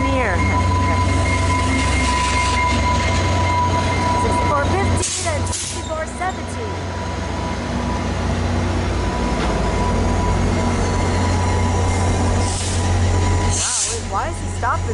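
A VIA Rail passenger train, number 87, idles nearby at Stratford station with a constant low diesel rumble and hiss, a few brief brake-like squeals and clanks cutting through, steady and loud.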